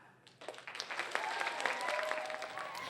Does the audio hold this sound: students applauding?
yes